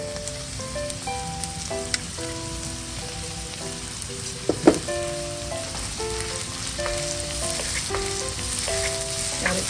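Chopped onions fry with curry paste for chicken panang curry, giving a steady sizzle and crackle close by, with faint tonal beeps over it and one sharp clink near the middle.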